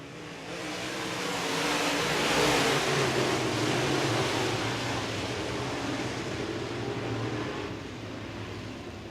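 Race cars pulling away from a heat race start, a broad roar of engines swelling up then easing off in the distance, steady and without talk.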